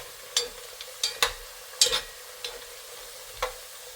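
Vegetables for a meatless borscht fry in a cooking pot, giving soft sizzling with several sharp crackles and spatters at irregular intervals, close by with no talk.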